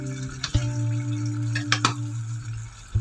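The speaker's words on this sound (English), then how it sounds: "Give it a quick stir." Egg pulao with coriander and mint leaves being stirred in a pan over a gas flame, heard as a steady close hum and soft sizzle broken by a few sharp scrapes and knocks of the spoon.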